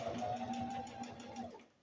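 Sewing machine running steadily while top stitching the corners of a wool flannel diaper cover, a close continuous hum with a faint stitch rhythm that stops near the end.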